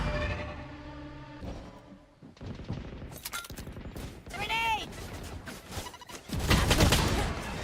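Gunfire in a VALORANT esports semifinal match, a cluster of sharp weapon shots and game effects mixed with busy crowd-like noise and a chirping in-game sound, with a caster talking throughout.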